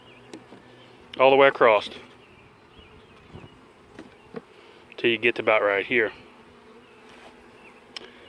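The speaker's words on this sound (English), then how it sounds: "there's not a whole lot of bees in here, and this is a new split" Bees buzz in a sparsely populated new split beehive with unattended wax, two loud close buzzing passes standing out from a quieter hum, while someone talks over the quieter stretches.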